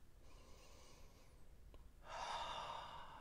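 A person takes a sniff from a cup of dark-roast coffee, a short breathy inhale followed by a stronger, louder draw of air, close and intimate with no talking.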